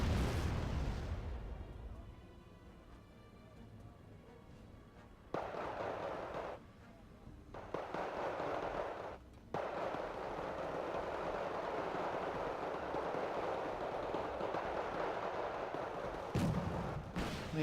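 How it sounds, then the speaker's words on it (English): Missile and gun strafing runs by a Harrier GR7 in Wargame Red Dragon: a sustained roaring rumble of fire and explosions, with abrupt bursts and cutoffs and a sharp crack near the end. "Harrier GR7 doing some strafing runs with the missiles"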